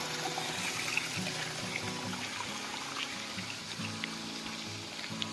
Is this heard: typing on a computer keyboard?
no